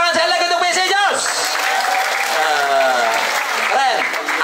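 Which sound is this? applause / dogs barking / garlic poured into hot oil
applause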